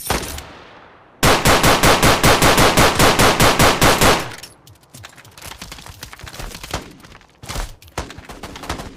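Shotgun fire in a video game: a rapid, evenly spaced burst of loud blasts for about three seconds, followed by scattered shots and clatter.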